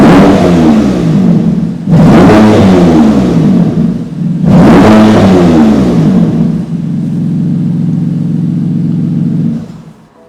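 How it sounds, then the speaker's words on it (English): A BMW M2 Competition with a PCW exhaust mod revs hard with its exhaust valves open, two loud rising blips followed by a sustained steady drone that fades at the end, close and unaccompanied by talk. "if I put the car into M1 mode, which opens the valves, the exhaust valves, this is what it sounds like."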